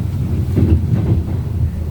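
An electric commuter train runs along the track, a loud, close rumble from inside the car with rhythmic low thumps and steady wind-like noise.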